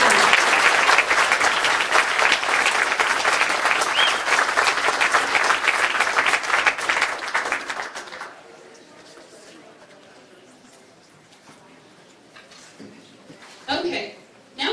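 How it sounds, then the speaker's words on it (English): Dense, enthusiastic audience applause fills a school board meeting for about eight seconds, then cuts off abruptly, leaving a quiet room with a few faint sounds. "first let's clap for that"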